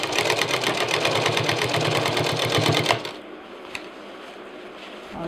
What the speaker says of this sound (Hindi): इस पाइपिंग के ऊपर से हमें मशीन चलानी होगी